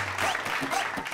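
A studio audience applauds the winner of a game round on a children's singing show, a brief burst of dense clapping under a host's voice.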